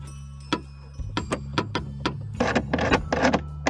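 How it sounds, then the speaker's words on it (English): A ratchet tightens the air filter cover bolts on a Bronco, giving quick, evenly spaced clicks in short bursts, close and moderately loud over a low steady hum. "go around and give them a snug turn with the ratchet"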